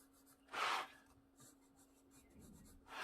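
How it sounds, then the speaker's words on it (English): Pencil strokes rasp softly across paper, one firmer stroke then lighter scratching, quiet and close with a faint steady hum. "Always pulling my pencil towards me when I shade."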